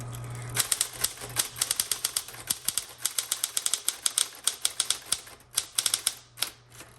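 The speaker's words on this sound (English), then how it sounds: "I'm gonna hit margin release, finish that off, and then hit the return key" Rapid keystrokes on a 1960s Smith Corona Electra 110 electric typewriter clatter in quick bursts with a low motor hum underneath, followed by the clunk of a carriage return.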